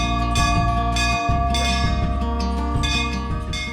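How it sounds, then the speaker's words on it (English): A sensor-triggered temple bell rings repeatedly in a steady rhythm, bright metallic strikes overlapping with lingering resonant tones, loud and close, no talking. "बगैर छुए घंटी बज जाती है"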